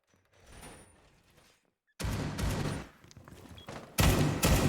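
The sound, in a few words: gunfire opening a wall in Rainbow Six Siege video game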